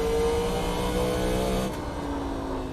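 A NASCAR Legends stock car in a racing video game holds a steady, droning engine note on partial throttle, the pitch easing down slightly as it rolls through a corner.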